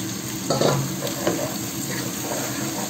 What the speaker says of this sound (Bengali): সবজিগুলো পেঁয়াজের সাথে ভাজবো